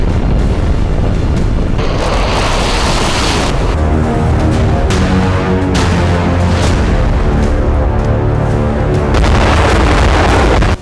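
Cluster bomb blasts striking the ground, more than a hundred at once, heard as a loud continuous roar of overlapping booms and rumbling detonations that rises and falls for about ten seconds without voices.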